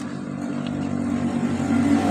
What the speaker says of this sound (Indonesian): Maka ketika motor ini dihidupkan